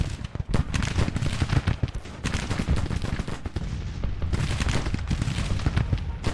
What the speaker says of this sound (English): Listen to those Williams guns.